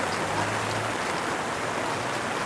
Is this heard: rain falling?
yes